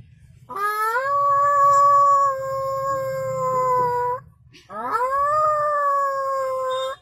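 A man imitates a dog crying and howling: two long, wavering howls close to the mic, the second following a short pause, over a faint low hum.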